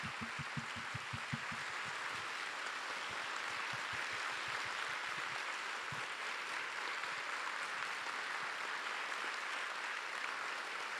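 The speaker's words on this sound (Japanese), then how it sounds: "アーティストの皆さんにもう一度大きな拍手をお願いします。" An audience in a concert hall at the Kagoshima Jazz Festival applauds at length, a dense, even wash of clapping that holds steady throughout, with a few low rhythmic thumps early on.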